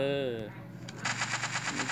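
Rapid automatic gunfire rattles in a fast, even burst of sharp reports at moderate distance, following a brief voice at the start.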